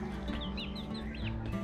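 Two young roosters, one chocolate-coloured, among other backyard fowl, giving scattered high clucks and chirps over a steady low hum, close by with no talk.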